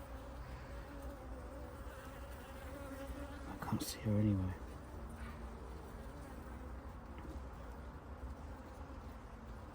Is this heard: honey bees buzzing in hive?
yes